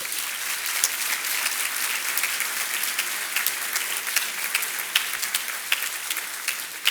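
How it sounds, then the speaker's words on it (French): Steady audience applause at a master's degree graduation ceremony, many hands clapping densely and evenly throughout with no talking, a hall full of people sustaining the ovation. "Applaudissons-les également."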